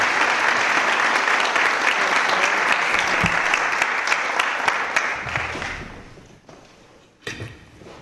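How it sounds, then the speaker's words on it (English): Applause at a city council meeting, a dense sustained clapping from the room that fades out over the last couple of seconds, ending with a faint thump. "please give these gentlemen a round of applause for their service"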